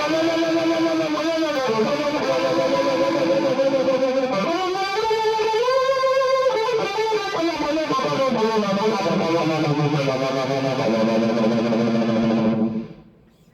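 Electric guitar chords and melodic lines swirling through a Kmise Vintage Phaser pedal's sweeping effect, loud and continuous, then cut off abruptly at the end.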